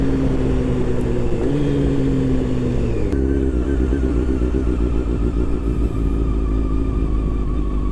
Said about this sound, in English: there's the motorcycle right there